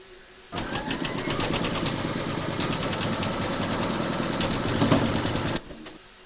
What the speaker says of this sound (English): Load your thread colour for the quilting of this area here into your machine and then stitch round number 7